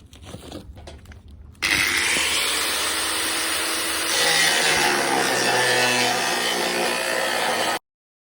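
A power saw or cutter slices through steel crash barrier being cut up for a cattle handling race, a loud, steady, close grinding roar that starts abruptly after light clatter and runs for several seconds before cutting off sharply.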